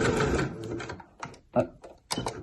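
A sewing machine runs a zigzag stitch around a garment hem, a steady whirring run at first that breaks into short, close bursts of stitching with brief pauses between them.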